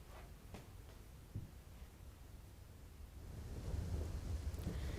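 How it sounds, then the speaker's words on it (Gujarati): Monsoon rain falls steadily across a district in Gujarat, a soft continuous wash of drops that swells louder toward the end, with low rumbling beneath. "અરવલ્લી જિલ્લામાં સાર્વત્રિક વરસાદ જોવા મળી રહ્યો છે"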